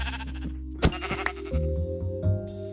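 Sheep bleat a few times in Minecraft, wavering calls layered over steady background music with no talking.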